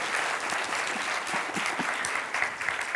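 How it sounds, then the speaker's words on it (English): An audience at a school district board meeting reception claps steadily, a dense continuous round of applause from a moderately sized crowd without pauses. "so let's give them a round of applause."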